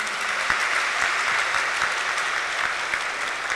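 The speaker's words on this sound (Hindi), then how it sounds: "जोर से ताली बजाइए" Audience clapping hard at a spiritual gathering, a dense sustained wash of many hands that holds steady at moderate loudness throughout.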